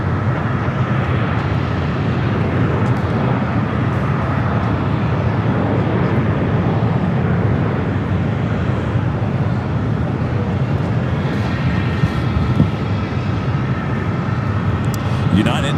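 At Los Angeles airport, a jet airliner's engines roar in a steady, broad rush heading down the runway for takeoff, loud and sustained, with a voice talking over it.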